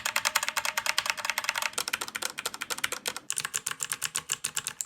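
Fast, steady typing on a SteelSeries Apex M750 mechanical keyboard, its exposed switches clicking in dense rhythmic bursts, close and moderately loud with no talk.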